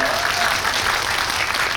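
A theater audience at a film talk event in Seoul for Confidential Assignment 2: International claps steadily, a dense, even wash of many hands filling the room throughout.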